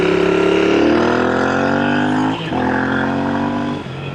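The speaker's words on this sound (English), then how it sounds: "We hit the rev limiter." Engine of the RE INT865 bouncing off the rev limiter, a loud, close, raspy high-pitched scream held steady with brief dips as the revs drop and climb again.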